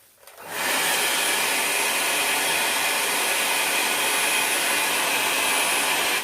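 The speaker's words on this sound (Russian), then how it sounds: "приступаю к сушке феном." A hair dryer blows steadily on glue-coated paper tubes, a loud continuous whooshing roar that starts abruptly and runs unbroken to the end with no talking.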